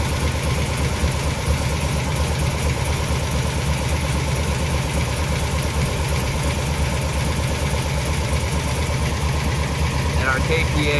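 A car engine running Holley Sniper 2 fuel injection idles steadily and loudly throughout, slightly above its target speed, with an even mechanical hum and faint knocking texture.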